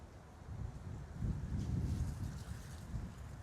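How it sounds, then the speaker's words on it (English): Wind gusts across an outdoor disc golf course, a low buffeting rumble against the microphone that swells midway through and then eases, with no voices. "Wind picked up right there."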